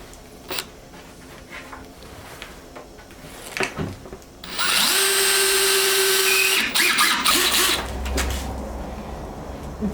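Drill driving long screws into an OSB panel while building a wall cabinet, a steady loud whir lasting about two seconds, then lighter tool handling and clatter, with scattered knocks and handling noise before it.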